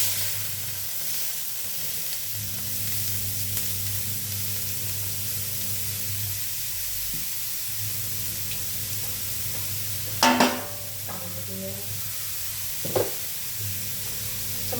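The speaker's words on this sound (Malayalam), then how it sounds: "അങ്ങനെ നമ്മളിതാ ഇനി നമ്മളെ കർമൂസ വെക്കാൻ വേണ്ടി പോവാണ്. ഇപ്പോൾ കടുകിട്ട്" Papaya pieces dropped into a pan with mustard seeds, giving a steady low sizzle and hiss of frying with a couple of sharp louder spatters near the end, no voices.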